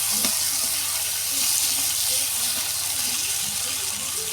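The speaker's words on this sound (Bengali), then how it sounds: "তেলের উপর দিয়ে দিয়েছে টমেটো টমেটো টমেটো দিচ্ছে" Tomatoes frying in hot oil in a wok over onions for a river fish curry, a steady broadband sizzle with faint stirring clatter, continuous and close throughout.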